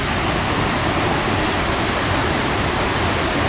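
The Salto Grande waterfall in Torres del Paine roars as a dense, steady wash of falling water, loud and unbroken throughout.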